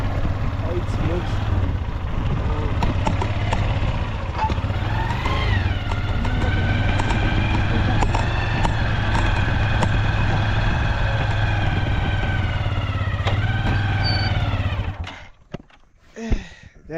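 Motorbike ridden along a bad, rough road past a coffee plantation, its engine droning steadily with rising and falling pitch, under wind noise and a voice, then cutting to bumps and quiet at the end.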